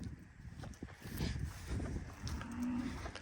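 Cattle on a farm moo nearby, with a short low call standing out above a faint background of shuffling, hoof steps and light wind.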